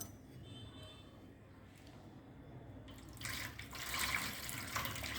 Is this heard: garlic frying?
no